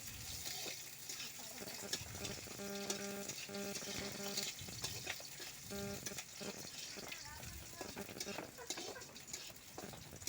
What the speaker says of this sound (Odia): ପିଆଜକୁ ପକାଇ ସାରି ତାକୁ ଘାଣ୍ଟିବାକୁ ଲାଗିଲି।